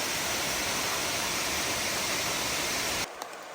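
A waterfall beside the Appalachian Trail roars as a steady, dense broadband rush, loud and close, then cuts off abruptly near the end, leaving quieter background.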